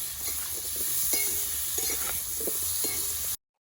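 Potatoes frying with salt and turmeric are stirred in a pan, a soft continuous sizzle with light scraping and clinks of the spoon, close but fairly quiet, cutting off abruptly at the end.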